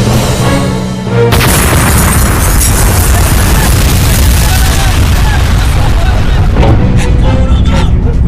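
A bomb goes off with a sudden loud boom about a second in, its dense rumbling roar and debris filling the rest of the scene at close range, with voices shouting faintly beneath it.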